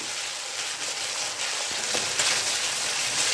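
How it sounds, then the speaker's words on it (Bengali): Masala with ginger paste frying and being stirred in a pan, giving a dense, close, continuous sizzle with soft scraping strokes; no voices. "আদার যেন কাঁচা গন্ধ না থাকে সেই হিসেবে নেড়ে নিচ্ছি"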